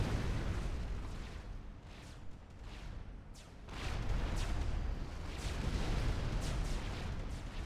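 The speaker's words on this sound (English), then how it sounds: "And this place is getting bombed." Bombing raids in the real-time strategy game Supreme Commander produce a dense, continuous wash of rumbling explosions, with several sharper bursts standing out and the barrage swelling louder after the first few seconds.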